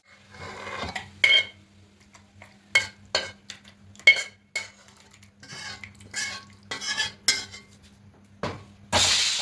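A ladle stirs tamarind-soured besan curry in a pot, scraping and clinking against the metal in irregular close strokes, with a steady low hum beneath and no talking.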